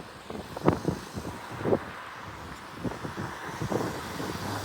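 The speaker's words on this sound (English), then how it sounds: "Now that engine you heard" A car engine passing on a windy roadside, a low rumbling drone with uneven thumps and wind buffeting the microphone, moderately near.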